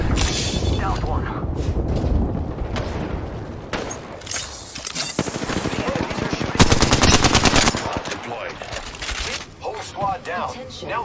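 Enemy gunfire in Apex Legends: loud, dense bursts of rapid automatic shots and single cracks, with mechanical clatter and a voice speaking over parts of the fighting.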